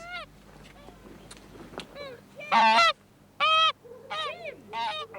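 A goose honks loudly several times in short, harsh bursts, mixed with other bird calls close by in an indoor scene from a 1968 television drama.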